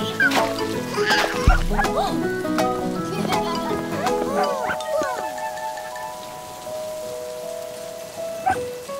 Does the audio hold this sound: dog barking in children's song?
yes